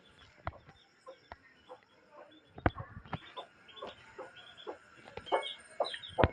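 A hen clucks on a farm while leading her chicks out to peck at feed, with short irregular clucks and small cheeps scattered close by, mixed with faint rustling and bird calls.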